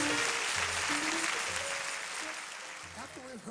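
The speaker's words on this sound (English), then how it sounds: "let's give all of them a rousing applause again" Church audience applause for musicians at a Church of God in Christ service, a dense clapping wash under an organ's tones and a voice speaking, fading a little toward the end.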